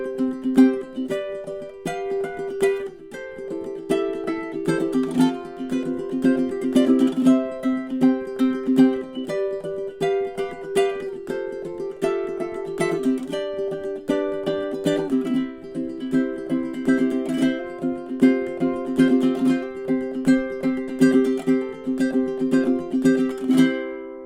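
A high-G tuned ukulele plays a lively solo closing piece for about twenty-four seconds, bright chords mixing with muted percussive ghost-note strums in a steady, busy rhythm, close and clear with no voices.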